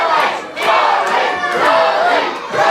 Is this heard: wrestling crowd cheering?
yes